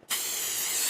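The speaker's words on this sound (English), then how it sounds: "you take hairspray and you simply" Hairspray hisses from an aerosol can onto a foam footprint impression, one abrupt onset into a steady, close, bright spray held for the rest of the second.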